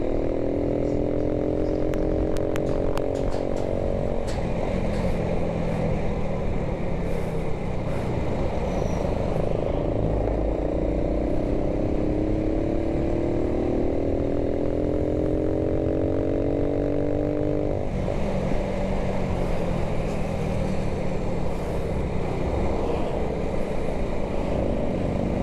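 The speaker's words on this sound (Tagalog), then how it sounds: "Iba pag naka-change oil yung makina, no? Hindi hirap yung tunog, eh." A motorcycle engine with freshly changed oil runs steadily up close while riding toward traffic, its pitch climbing and dropping with each gear change. It stays loud and continuous for the whole stretch, with no talking.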